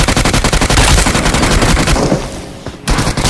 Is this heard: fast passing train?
no